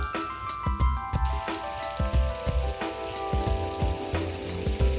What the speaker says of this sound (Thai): น้ำมันที่เราได้จากสีของโชลิโซนะครับ เราจะเอามา ผัดหอมครับ แล้วก็พริกครับ